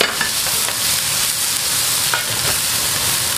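Garlic chives stir-fried in a wok with minced garlic by a restaurant chef, a steady loud sizzle close by with scraping strokes and soft clinks of the spatula running throughout.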